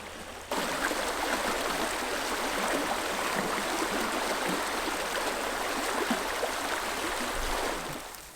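A mountain river swollen with Rocky Mountain runoff rushes in a loud, dense, unbroken roar that starts abruptly and holds steady before easing slightly at the end, with no talking.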